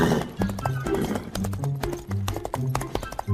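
Horses gallop in a steady clip-clop of hooves as bandits ride in on horseback, with a whinny rising over the fast, close hoofbeats.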